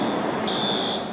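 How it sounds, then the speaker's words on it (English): A fire alarm's steady high electronic tone sounds over a noisy crowd during a Las Vegas hotel evacuation, holding continuously for about half a second. "As fire alarms sounded"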